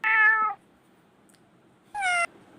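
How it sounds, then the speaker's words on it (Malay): A cat meows twice, close and clear: one drawn-out cry, then a shorter one after a quiet pause. "tiba-tiba dia terdengar macam bunyi suara kucing tau."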